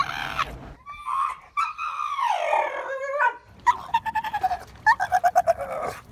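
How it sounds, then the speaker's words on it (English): A Staffordshire bull terrier screams, letting out long, high, wavering shrieks and then a rapid run of sharp, close yelps, loud and with no talking. "A sort of shriek that would earn him the name Mo the Screaming Staffy"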